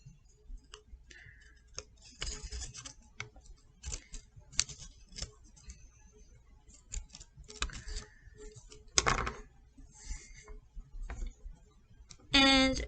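Scissors snip a small triangle out of a paper coffee filter for a craft, a series of close, crisp cuts and paper rustles spread over several seconds with brief pauses between them.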